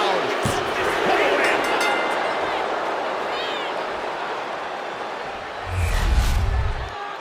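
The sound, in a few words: crowd cheering in wrestling video game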